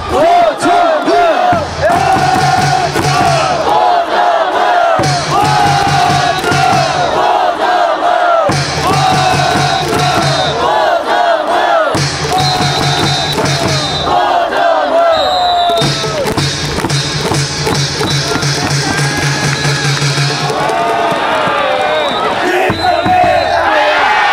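Baseball stadium crowd shouting a rhythmic cheer chant led by a cheerleader during a ninth-inning rally, loud and continuous in repeated bursts with brief pauses, amplified voices leading the chant over the mass of fans.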